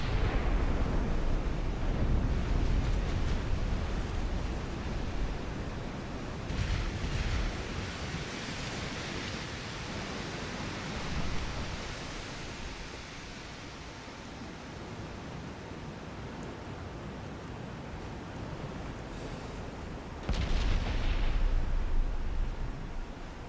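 Battleship guns firing in the naval warfare game Ultimate Admiral: Dreadnoughts, a steady roaring wash of distant rumbling booms with occasional louder swells, no voices over it.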